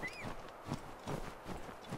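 Horse hooves clip-clopping in the Assassin's Creed 3 video game, a soft, steady walking rhythm of about four muted beats, faint and unaccompanied by speech.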